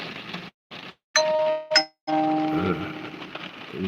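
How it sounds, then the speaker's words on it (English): Livestream notification chime, a bright ringing ding with sustained metallic tones sounding twice in close succession, loud and clear between short bursts of noise and silence. "Notification went off there."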